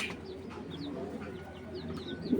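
A racing pigeon coos softly in a close, quiet setting, with a few faint chirps and low murmuring calls behind it.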